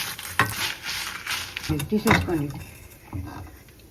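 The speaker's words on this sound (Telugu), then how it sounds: "ఇది మిరపకాయలు వేసేసి వేయించుకోండి" Dried red chillies fry in oil in a pan, with a crackling sizzle and scraping, clinking stirs up close while someone talks over the cooking.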